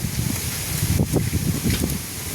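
Gusty wind rumbles and rustles outdoors, close and fairly loud, with a few brief sharper bursts and no talking.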